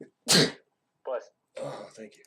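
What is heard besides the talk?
sneeze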